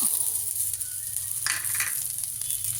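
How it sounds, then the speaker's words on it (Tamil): Dried red chillies and spices for arachuvitta sambar roast in a hot pan, giving a constant close sizzle with a brief louder crackle of stirring midway, no voices. "மிளகாய் எல்லாத்தையும் ஒன்றா போட்டு நல்லா கொஞ்சம் செவக்க வறுத்துடணும்."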